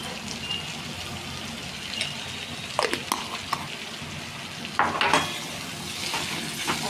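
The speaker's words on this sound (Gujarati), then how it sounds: "સારી રીતે આપણે મિક્સ કરી દઈશું।" Spiced tindora (ivy gourd) with red chilli and salt being mixed in a cooking pan, a low steady sizzle with a few sharp utensil scrapes and clinks against the pan, close and moderately quiet.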